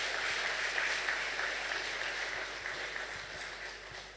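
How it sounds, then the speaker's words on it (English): A round of applause from the audience at a graduation ceremony, dense steady clapping that fades gradually over about four seconds. "I want us to give them a big round of applause."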